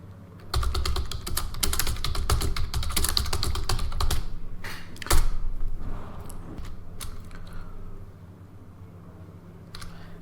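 Rapid clicking keystrokes on a computer keyboard, close and fairly loud, running steadily before slowing into scattered taps toward the end, with no voices.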